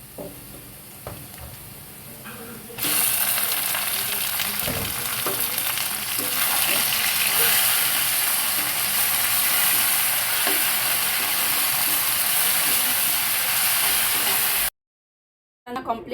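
Jute leaves dropped into a pan of fried onions and stirred, bringing a sudden loud, dense sizzle that holds steadily with faint stirring knocks before an abrupt cut, with no talk.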